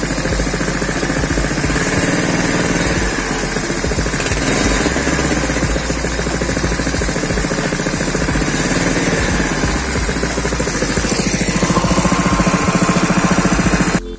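A Honda GX160 small engine runs steadily with a dense, continuous mechanical drone, held close and loud throughout, rising slightly in intensity near the end as it is revved.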